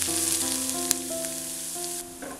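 Brown fried onion tempering poured over shrimp for a Kerala-style dry coconut and tamarind dish, giving a steady, loud sizzle and crackle of hot oil that holds for a couple of seconds with a few sharp pops, no voices.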